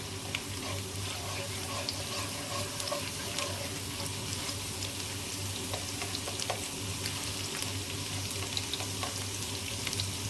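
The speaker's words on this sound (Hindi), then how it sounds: "ऑयल हल्का सा गर्म होगा तो मैं इसमें गार्लिक ऐड कर दूंगी, चॉप किया हुआ।" Chopped garlic frying in lightly heated oil in a pan, a quiet, steady sizzle with faint crackles running evenly throughout, no talking.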